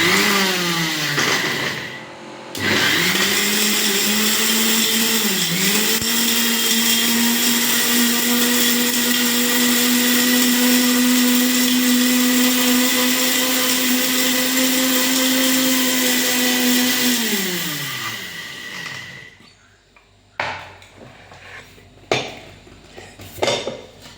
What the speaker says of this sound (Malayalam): നല്ലവണ്ണം പൊടിച്ചെടുക്കണം